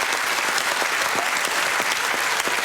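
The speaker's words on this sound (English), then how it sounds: "Let's have a round of applause," Studio audience on a comedy quiz panel show applauding, dense and loud continuous clapping throughout, with no speech over it.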